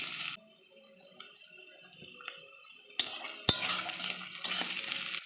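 Onions fry in a pan while a spoon stirs them, with scraping and clinks of utensil on metal over a rising sizzle that grows louder in the second half.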